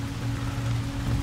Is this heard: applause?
no